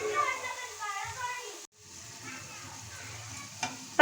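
Coriander leaf pakoras frying in hot oil in a kadai give a steady, close sizzle that briefly cuts out mid-way, then resumes, with faint background voices.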